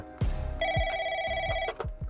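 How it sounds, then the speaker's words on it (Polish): Telephone bell ringing in an office, a loud close electronic ring held for about a second between clipped bursts, alone without any voices. "W dwa dni po uprowadzeniu chłopca w gabinecie Bolesława Piaseckiego zadzwonił telefon."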